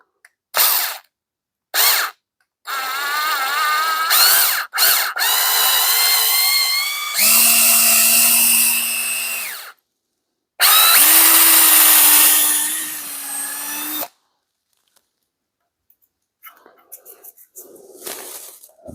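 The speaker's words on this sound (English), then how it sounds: "I'm just going to drill some pilot holes and then come back with the correct size and set these dowels" A power drill boring pilot holes in wood for dowels while a brush axe handle is repaired: short bursts, then longer high whining runs with pitch shifts, each separated by silent gaps, loud and close, no talking.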